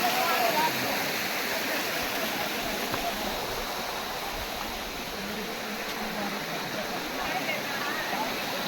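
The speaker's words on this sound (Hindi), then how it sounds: "देख पा रहे हैं ना झरना," A hidden waterfall in the hills at Govindpur, Nawada roars as a steady, dense wash of falling water, loud and continuous throughout with no pauses.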